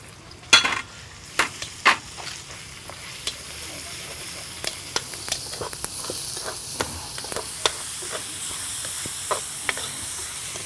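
Meat sizzles steadily in a hot pan while filling for Vietnamese bánh tẻ rice cakes is cooked, with sharp utensil scrapes and clinks from stirring scattered throughout, close and continuous.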